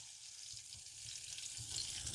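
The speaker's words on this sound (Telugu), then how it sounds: "తాలింపులో 2 టేబుల్ స్పూన్ల ఆయిల్ వేస్తున్నానండి." Butter and oil heat in a pan for a tempering, giving a soft, steady sizzle that stays low and even throughout, close by and alone with no talk.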